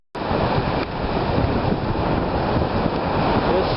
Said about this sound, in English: This is my own personal seashore beach.